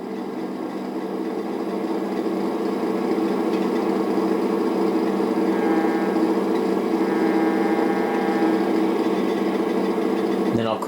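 Several N scale model diesel locomotives idle together on a layout, a steady even mechanical hum with a faint whine that holds level throughout, with no talk over it.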